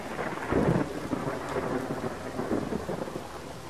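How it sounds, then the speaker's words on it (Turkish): Thunderstorm in the video game Space Engineers: steady, dense rain with rolling thunder rumbles swelling throughout, loud and continuous with no voices. "Gök gürültüyor arkadaşlar. İnşallah yıldırım düşmez."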